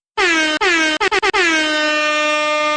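A loud, brassy air horn blares in a long blast, then a quick stutter of short honks, and finally one sustained tone that fades out slowly.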